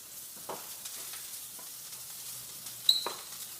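A homemade burger patty cooks on a stovetop with a faint, quiet sizzle, broken by a couple of soft clicks and one brief sharper tick.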